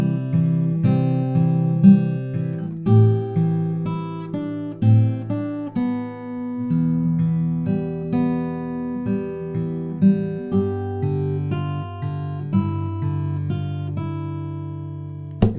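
Fingerstyle acoustic guitar plays the final chorus of a song: a steady melodic run of plucked notes over a low bass line, close and clear, with no voices throughout.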